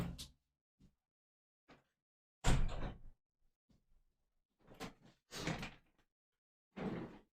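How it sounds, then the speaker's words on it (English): Door closes in a room with a few separate knocks and thuds, the loudest bursts close and sharp, separated by short silences. "I'm gonna close my door 1 second."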